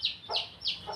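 Chickens with young chicks, hens clucking and chicks peeping in quick, high repeated calls close by, with no speech.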